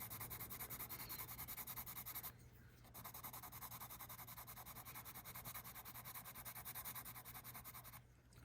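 Hexagonal pencil being sharpened in a hand sharpener, a quiet continuous gritty grinding with rhythmic scraping, stopping briefly twice as the pencil is turned or withdrawn.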